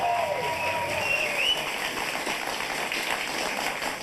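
Studio audience on a political comedy talk show claps in a steady, dense wash of applause, with a brief voice rising over it near the start.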